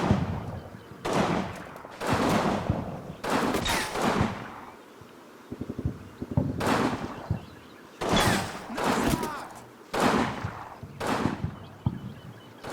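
Gunfire in the Combat Mission video game, fighting around village houses, comes as sharp bursts and single shots scattered through the stretch, with reverberant tails and quieter gaps between volleys.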